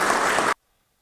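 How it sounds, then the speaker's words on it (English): Audience clapping for a speaker, a dense burst of applause that fills about half a second and then cuts off abruptly into silence. "And so they're clapping for him, right?"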